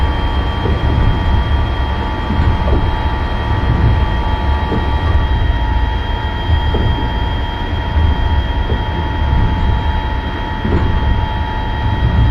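A MARC Penn Line commuter train runs on the Northeast Corridor between Washington DC and Baltimore. Heard from on board, it makes a loud, steady rumble with sustained whining tones and occasional soft thumps that continue without a break.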